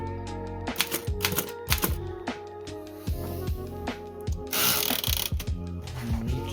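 A 100-year-old Remington portable typewriter types at close range: crisp irregular key strikes clack in quick bursts, mixed with ratcheting carriage clicks and a brief whirring mechanical rush midway.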